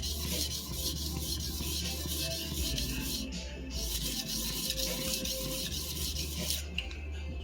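A freshly restored sujihiki knife rasps back and forth against a sharpening stone in a steady, continuous rubbing rhythm, close and fairly loud with no talking.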